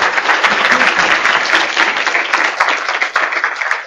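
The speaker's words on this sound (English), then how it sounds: "So I'd like you to pause and give a nice warm round of applause to Amanda K. Shepherd" A medical conference audience on advanced heart failure and transplant gives a dense, sustained round of warm applause, loud and steady for several seconds with no talk over it.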